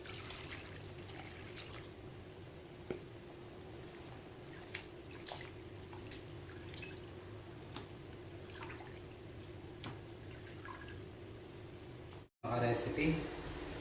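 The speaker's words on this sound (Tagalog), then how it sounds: "Huhugasan naman natin yung ating pusit." Squid is rinsed under running water for a Filipino squid and squash coconut-milk dish, a faint steady trickle with small splashes and drips, then a louder gush at the end.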